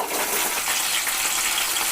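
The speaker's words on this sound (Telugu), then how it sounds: "పచ్చిమిరపకాయలు వేగుతున్నాయి కదా" Green chilies fry in hot oil, giving a dense, loud, hissing sizzle that runs unbroken and close for a couple of seconds, with no voices.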